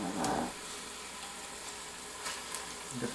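Vegetables sizzle and fry steadily in a hot pan, a soft continuous crackle with a brief louder burst of stirring at the start and end, no voices over it.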